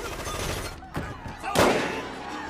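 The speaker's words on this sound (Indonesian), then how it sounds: "Namun di tengah baku tembak, Goy, Wick, dan John ikut campur" Burst of gunfire from a film gunfight scene against yakuza gang members in a wooden teahouse, with sharp cracks and a dense volley near the end over a busy cinematic soundtrack.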